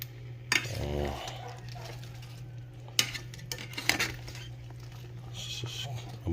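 A spoon stirs pork humba inside a rice cooker, with scattered metallic clinks and scrapes against the pot over a steady low hum, some louder knocks mixed in.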